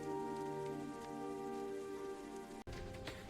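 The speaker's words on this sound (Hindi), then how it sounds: "पप्पी बारिश में रोता रहा।" Rain falls as a steady, even hiss in a cartoon animation, blended with sustained musical tones and broken by a brief dropout near the end.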